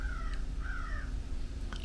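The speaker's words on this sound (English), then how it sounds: "There's a bird out there." A crow calls outdoors with two or three hoarse caws, heard faintly at a distance over a low, steady background hum. No one speaks.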